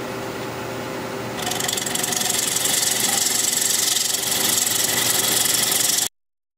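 A wood lathe spins a 15-inch birch platter at almost 700 RPM, giving a steady, loud mechanical whir and hum that grows fuller partway through and then stops abruptly. No one speaks.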